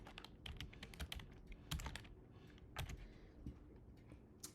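A computer keyboard is typed on while text goes into a flowchart shape on diagrams.net. Soft, quick key clicks come in an uneven rhythm, close and quiet, with no speech.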